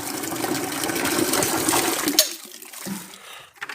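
Water gushes and splashes steadily as it is poured out for pigs in a farm pen during chores, loud and continuous for about two seconds before cutting off into quieter rustling.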